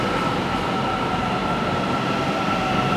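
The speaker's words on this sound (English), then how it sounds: "Istanbul Metro here." On board a moving Istanbul Metro train: a loud, constant rolling rumble with a thin tonal whine over it, steady throughout, with no voices.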